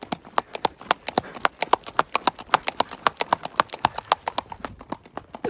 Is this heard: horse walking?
yes